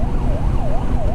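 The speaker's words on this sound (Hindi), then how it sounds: "ये एम्बुलेंस काफ़ी स्ट्रगल कर रही है ट्रैफिक में।" An ambulance stuck in heavy traffic on an Indian road sounds a loud, close wailing siren, its pitch sweeping up and down in a steady repeating cycle over a rumble of road and engine noise.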